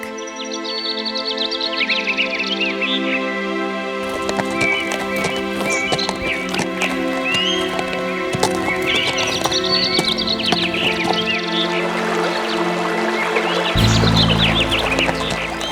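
Horse from an animated children's story, walking with steady clip-clop hoofbeats under music, with whinnying calls breaking in a few times across the stretch.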